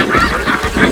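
Snow geese honk overhead during a South Dakota hunt, a dense loud chorus of overlapping nasal calls from a large flock, with no speech.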